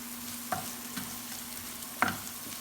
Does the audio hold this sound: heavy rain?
no